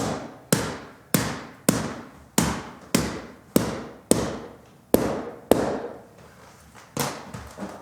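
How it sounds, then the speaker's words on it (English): A ball peen hammer taps plastic interlocking garage floor tiles in about a dozen sharp, evenly spaced knocks, each with a brief ringing decay, close and fairly loud. "with the precision of the ball peen, you can hit right where you want it"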